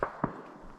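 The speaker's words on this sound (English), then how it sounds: "you can hear the gunshots in the background." Two distant gunshots pop in a forest, short sharp reports about a quarter second apart, faint against quiet background noise.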